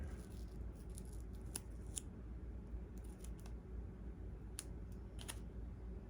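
Scissors cutting a fuselage decal up close, giving a handful of sharp, separate snips spread over a steady low background hum with no talking.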